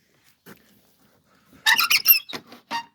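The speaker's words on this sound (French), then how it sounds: "la porte, c'est vraiment pas agréable le loquet" A door latch on a poultry-breeding enclosure squeaks and rattles in a loud burst of several sharp, high creaks and clacks, preceded by a faint click, close to the listener with no talking.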